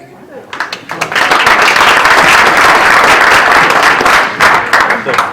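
Applause at a town redevelopment meeting, rising quickly from a few claps into sustained crowd clapping that holds strong and then thins out near the end.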